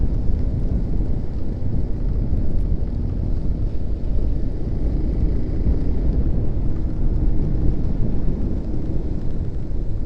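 Heavy rain and thunder during a storm in Himachal, with a steady loud roar of rain and wind filling the whole stretch, no voices.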